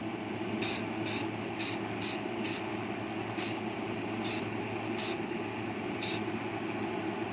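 A model car hood for a 1963 Chevy Nova kit gets spray painted in nine short, sharp bursts from an aerosol can, evenly spaced over a steady background hum with no talking.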